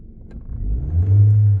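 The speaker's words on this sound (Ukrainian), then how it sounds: "Будемо їхати на нашому ручному управлінні" A car fitted with hand controls for driving revs up while driving and holds a steady, loud low drone, rising from a rough idle into a sustained mid-range roar.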